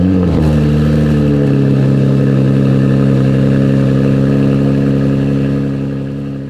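Standard rear-wheel-drive 2021 Porsche Panamera engine heard from inside while driving: a loud, steady mid-pitched drone with strong harmonics, rising briefly at the start, then holding before fading slightly at the end, no voices.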